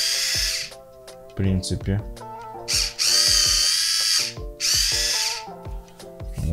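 Motor of a Xiaomi Circle Joy Black Samurai electric wine opener whirring in two loud, sustained bursts, with music playing and a person talking around them.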